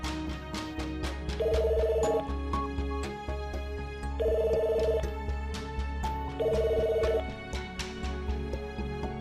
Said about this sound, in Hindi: सर बेल तो जा रही है